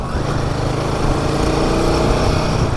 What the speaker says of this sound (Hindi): यहाँ 3 तक जब इसका आरपीएम रेव हो जाएगा तब मैं गियर चेंज करूँगा